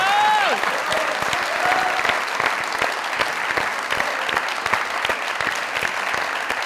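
Studio audience on a Pakistani comedy talk show breaks into loud, sustained applause, dense clapping filling the room steadily from start to finish with a brief whistle-like tone at the outset.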